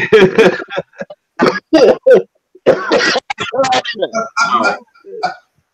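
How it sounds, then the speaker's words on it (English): Several harsh coughs and throat-clearing bursts come in quick clusters, close and loud, mixed with bits of voice. "My cough is from sickness."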